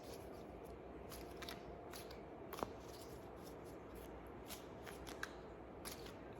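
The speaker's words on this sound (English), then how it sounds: "We're going to shuffle these cards." Tarot cards being shuffled by hand, a quiet series of crisp riffling and flicking bursts repeating at a brisk, slightly irregular rhythm, close up in an otherwise hushed room.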